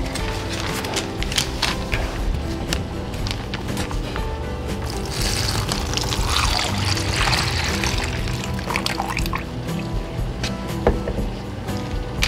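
A cup of milk pours into a zip-top bag for a sous vide dessert: a steady, close splashing and trickling of liquid that runs on for several seconds.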